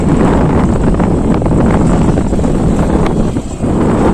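Loud, continuous roar of strong wind buffeting the microphone at a fishing harbour near Digha, steady and full with no letup.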